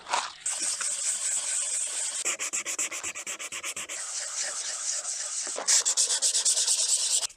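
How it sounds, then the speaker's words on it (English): Sanding with 240 grit paper to feather the edges of peeled paint on a Mercedes C200, a close, continuous abrasive rasp in fast back-and-forth strokes with brief pauses. "What I'm aiming to do is feather in these edges to remove the sharp lip left from the peeled off paint and the remaining paint"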